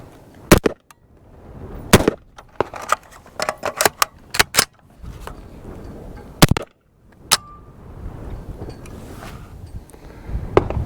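A Gen 2 180C pistol fed from a Cross Industries magazine fires steel-cased rounds outdoors: loud, sharp cracks in short groups, with handling clatter and a pause for a magazine change between them.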